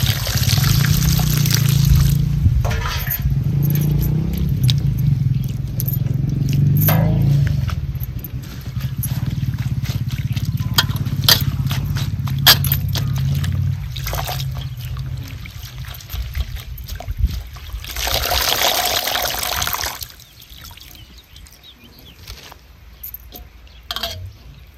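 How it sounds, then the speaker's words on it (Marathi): Wild tandulja greens being washed in water, with steady pouring, trickling and splashing plus occasional clinks of a vessel, fairly close and continuous, easing off near the end. "दोन पाण्याने भाजी धुतली का नाही म्हणजे काय होतं माती राहत नाही"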